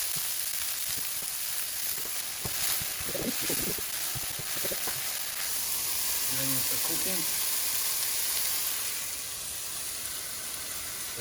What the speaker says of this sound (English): when it's really hot, we're gonna throw in our onions